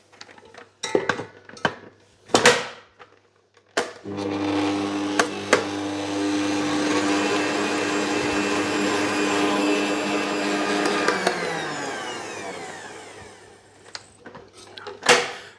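An electric hand mixer whips softened butter in a bowl for cinnamon roll dough, a steady loud whirring hum lasting about eight seconds, framed by clinks and knocks of the beaters against the bowl before and after.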